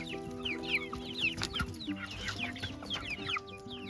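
Young chickens, including barred rock chicks, cluck and peep in a small baby coop, with overlapping chirps and soft clucks over a steady low hum.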